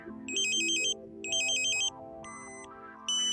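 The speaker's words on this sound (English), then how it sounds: "You hear the ambulance tone again." Satellite modem alignment tone from a KA-SAT dish pointing setup, heard as two-tone electronic warbling bursts alternating with steadier beeps, loud and clear with no talk.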